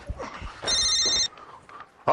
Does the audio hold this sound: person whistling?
no